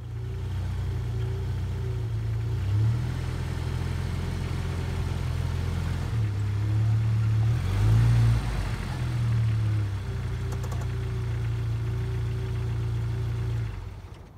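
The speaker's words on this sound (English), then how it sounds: "and then I'll just drive on it." A Jeep engine idles steadily and close by as the Jeep drives onto homemade wooden leveling boards, with a brief swell in engine sound partway through before it settles back to an even idle.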